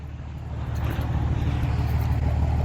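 A Cummins 6.7 diesel service truck cruises down the road with a steady low engine drone and tire rumble heard from inside the cab, building slightly in loudness then holding even.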